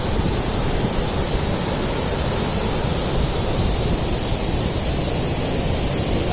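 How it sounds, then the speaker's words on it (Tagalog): Lulugayan Falls, a large waterfall in Calbiga, Western Samar, pours with a loud, steady, broadband roar of crashing water that never lets up. "Ang lakas ng hulog ng tubig, oh."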